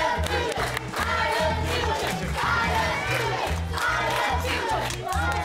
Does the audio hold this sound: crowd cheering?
yes